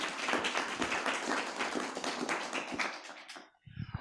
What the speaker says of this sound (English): So a round of applause for Deanne.